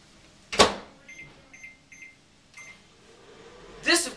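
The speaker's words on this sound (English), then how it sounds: "This, of course, is a microwave oven." A household microwave oven runs with a low hum, sounding a few short electronic beeps, with louder clunks of the door at the start and end, close and fairly quiet.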